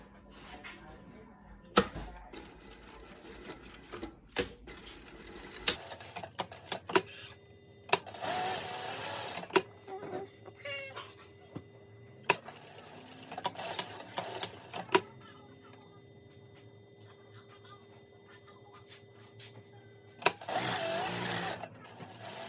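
A sewing machine stitches a homemade fabric face mask in short, intermittent bursts of mechanical whirring and clicking, separated by pauses and handling noises, at moderate volume with no talking.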